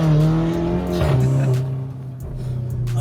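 VW Golf GTI with a Regazzone exhaust line, a loud close engine drone that dips in pitch and swells again as the car pulls away, with a faint voice in the background.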